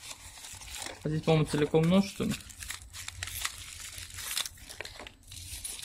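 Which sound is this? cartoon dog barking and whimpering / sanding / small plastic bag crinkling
small plastic bag crinkling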